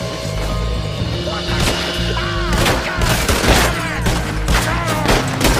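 Rapid gunfire crackles through a shootout in Red Dead Redemption 2, dense overlapping shots and booms over game music and ambience, with no pause across several seconds.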